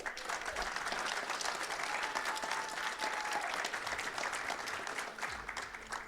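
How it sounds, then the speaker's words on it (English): Steady, dense applause from an audience at a CISO panel during a San Diego cybersecurity conference, sustained at an even level for several seconds in a hall before tapering slightly at the end. "Just a quick round of applause,"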